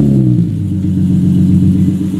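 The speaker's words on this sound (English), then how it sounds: "This is gonna be the first startup." A Nissan 370Z fitted with a cheap eBay aftermarket exhaust runs loud and close, giving a deep, steady, rumbling engine drone with no talk.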